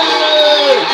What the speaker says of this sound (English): I'm bringing the applause track just for this one time